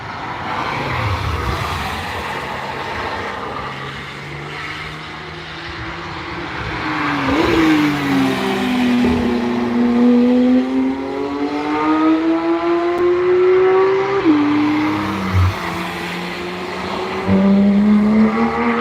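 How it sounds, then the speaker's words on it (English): Race cars lap the Nürburgring track, engines rising and falling in pitch as they accelerate and pass nearby, with tires briefly squealing; several cars follow one another in a steady loud stream, with no talk. "there's plenty of cars on the track"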